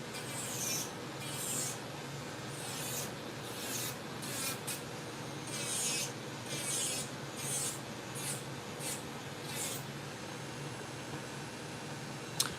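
A high-pitched electric nail drill filing grinds in short repeated bursts, a whining rasp starting and stopping over a steady background hiss, with no talking.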